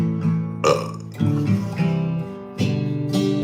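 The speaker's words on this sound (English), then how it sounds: "Remember to hit your burp note when you're playing your music" A beer drinker lets out a string of loud, close burps, several long, voiced belches in uneven succession with short gaps between them, no talk over them.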